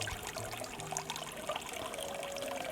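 Water trickles and splashes softly at a temple purification basin during a Kannon pilgrimage in Chichibu, Saitama, a faint steady pour with small droplet sounds throughout.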